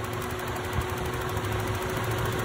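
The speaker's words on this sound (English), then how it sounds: "you can hear the revs going up higher and higher" A car engine idles while its idle speed is adjusted, giving a steady mechanical hum with a faint whine and no voices.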